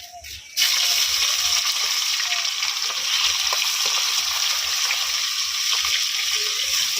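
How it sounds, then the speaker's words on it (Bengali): Chopped onion fries in a wok over bay leaf and cumin, a constant bright sizzle starting abruptly after a brief quiet moment and holding steady with faint scraping stirs. "প্রথমে পেঁয়াজটা ভাজা হচ্ছে, হালকা ভাজা হয়ে এসেছে"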